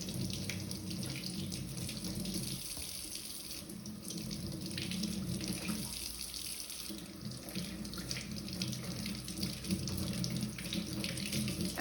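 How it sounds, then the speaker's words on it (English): A kitchen tap runs in a steady, close rush as three bell peppers are washed under the stream, with the water splashing and shifting slightly as they are handled. "So I'm going to wash all 3 of these."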